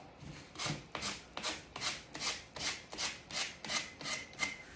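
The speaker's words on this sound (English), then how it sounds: "This is finer, so maybe a little bit finer sandpaper is better." Fine sandpaper rubs back and forth along a wooden edge in about ten even, rhythmic strokes. Each pass is faint and close, and the strokes come with no talking.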